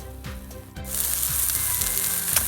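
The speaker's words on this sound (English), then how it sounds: "I just flipped it and you can hear it sizzling." A sudden loud sizzle breaks out as a pancake is flipped in the pan and holds steady, bright frying hiss filling the pan after a few soft knocks.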